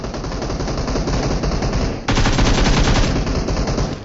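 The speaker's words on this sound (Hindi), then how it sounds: "फायरिंग पीछे से होती है, मेरे को सुनाई देता आगे से" Sustained loud automatic gunfire in the video game PUBG Mobile, dense rapid shots filling the whole moment with a brief dip before the firing resumes even harder.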